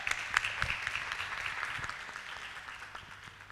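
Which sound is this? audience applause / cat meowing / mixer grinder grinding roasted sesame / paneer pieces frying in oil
audience applause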